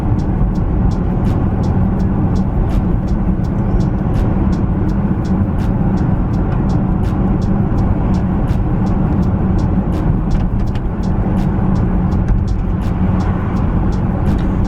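An Audi Q7 4.2 V8 TDI cruises slowly along a road, heard from inside the cabin as a constant low engine and road rumble with faint ticking, loud and steady for the whole stretch.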